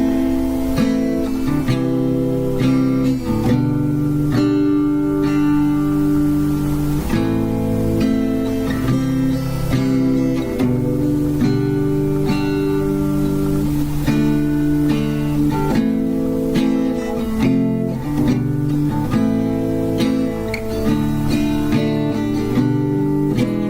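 An acoustic guitar plays the chord progression of a song as a steady run of loud, full strummed chords that continue without pause or speech.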